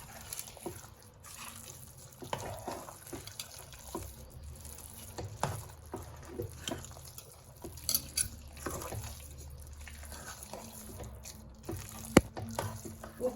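Cooked moong dal and rice for pongal being stirred together in a pot, giving faint, soft wet squelches and light scraping at an uneven pace, with no talking.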